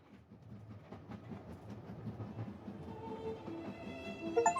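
Train carriage in the video game If On A Winter's Night, Four Travelers, a soft rhythmic rolling clatter of wheels on rails with rising tonal hum and chimes building toward the end.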